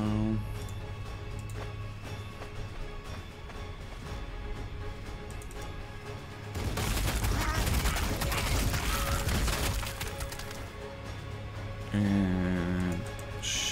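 Gunfire in the Warhammer 40,000: Sanctus Reach strategy game: quiet battle ambience and music give way to a dense, loud fusillade of rapid shots, followed by a short sharper burst near the end.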